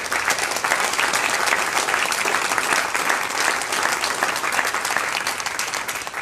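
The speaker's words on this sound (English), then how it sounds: "Could you do that now with a round of applause?" An audience at a bluegrass association town hall gives a round of applause: dense, sustained clapping from a large crowd, steady and loud throughout.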